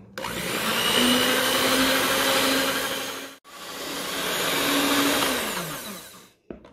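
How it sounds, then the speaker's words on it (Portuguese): A stand mixer whips chilled cream without sugar toward stiff peaks, a loud steady whirring motor running in two long bursts with a brief pause between, no talking. "Coloca aqui na batedeira, não tem necessidade de você colocar açúcar e vamos bater até ficar em ponto de bico."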